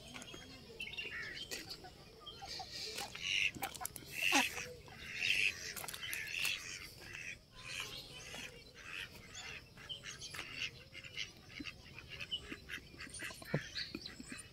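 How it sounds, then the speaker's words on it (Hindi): Ducks at a riverside resort paddle in standing rainwater, giving repeated quacks and chirpy calls in scattered bursts, moderately close, over a soft outdoor background. "बतखें यहाँ पे खुली है, देखिए पानी खड़ा हो गया है बारिश का, तो उसमें बतखों के मज़े आ रहे हैं।"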